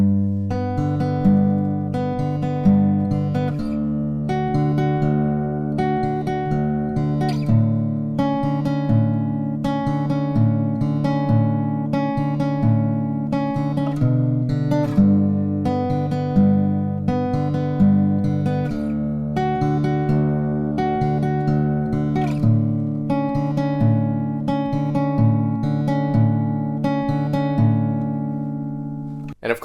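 Fingerpicked acoustic guitar playing the bridge of a song in an alternate tuning, ringing arpeggiated chords with a steady bass pulse, close and sustained for about half a minute with no voice.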